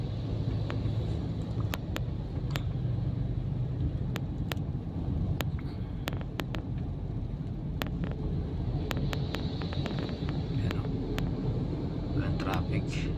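Heavy northbound road traffic, crawling near 6 kph, heard as a steady low rumble of idling and slow-moving engines with wind buffeting the microphone and scattered sharp clicks and taps throughout.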